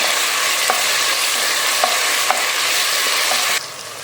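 Onions with ginger-garlic paste sauté in hot oil, giving a continuous loud sizzle broken by occasional sharp clicks of a stirring spoon, with no voices.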